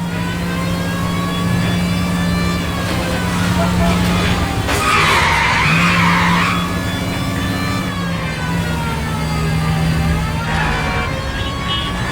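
A car spinning out in the video game L.A. Noire, its tires skidding and squealing in a long screech over a steady engine roar, with people talking over the noise.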